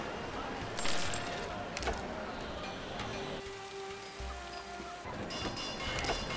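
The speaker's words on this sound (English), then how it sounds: "The rainy season army. has set in." Steady rain hiss from the Settlers: Rise of an Empire strategy game, continuous and even, with brief bright patter bursts and faint in-game tones over the downpour.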